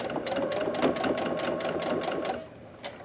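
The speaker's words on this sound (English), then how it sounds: "So we want to try to sew this close to the edge over here." A sewing machine stitching two layers of fabric close to the edge of a zipper pouch: fast, even mechanical clatter, close and steady, which stops abruptly near the end.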